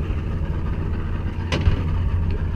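A boat engine runs steadily at close range while cast netting for mullet, a low continuous rumble with a brief splash-like burst partway through.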